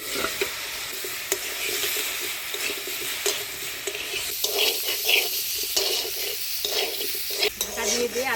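Potato and cauliflower fry in a pan with a constant close sizzle, broken by occasional stirring scrapes and clinks of the utensil.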